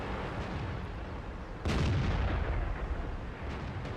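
A single heavy cannon blast from the AMX 50 120 tank in World of Tanks booms out of a steady, rumbling engine and battle background, then fades back into the drone.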